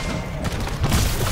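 Shooting in the video game Black Ops 6 Zombies, a dense, loud burst of booming shots and thuds packed into about a second, continuous and heavy without any voices.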